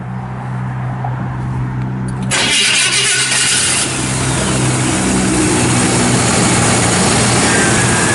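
1956 Chevrolet 210 with factory exhaust manifolds and dual exhaust, its engine cranking to life and settling into a loud, steady, rumbling idle that continues for several seconds, close by with no voices.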